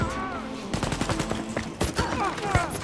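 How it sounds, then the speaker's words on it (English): Brutal gunfire from a captured enemy weapon in the shooter Wolfenstein: Youngblood, a rapid string of sharp, close shots in bursts with a steady game soundscape underneath. "There's just something so brutal about taking someone's gun and then shooting them in the face with it."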